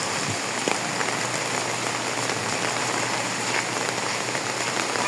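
Heavy rain pours steadily in a dense, continuous hiss of drops striking surfaces, close and unbroken throughout with no voices.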